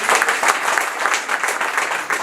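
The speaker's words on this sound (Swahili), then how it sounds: "Tumpigie tena makofi bwana Yusuf." A crowd applauds Yusuf at a Vital'o FC club event, a dense, even wash of many hands clapping close by, continuous and loud with no voices on top.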